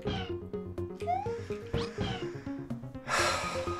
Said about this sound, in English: Meow, indeed.